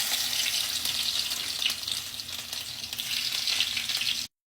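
Small chopped garlic fries in oil with a dense, close, crackling sizzle that holds steady for several seconds, then cuts off abruptly; no talking.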